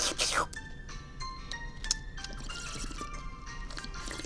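Water poured and gulped from a container, with liquid sloshing, splashing and dripping in quick bursts close to the microphone, against a quiet background.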